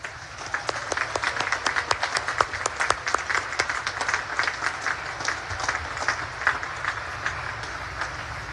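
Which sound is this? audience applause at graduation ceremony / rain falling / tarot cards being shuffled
audience applause at graduation ceremony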